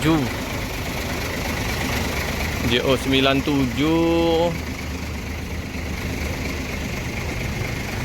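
A Sinar Jaya bus engine idles in a parking area with a steady, close low hum. A short tonal burst rises over it midway, then the even idle continues.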